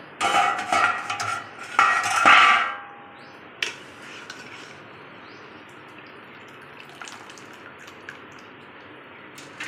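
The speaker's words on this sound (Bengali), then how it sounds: "জল ঝরিয়ে ঝরিয়ে উঠিয়ে নেব।" Boiled Maggi noodles tipped from a pot into a bowl while water drains off, heard as a loud burst of metal clatter and pouring in the first few seconds, then a fainter kitchen tail with a few small clinks.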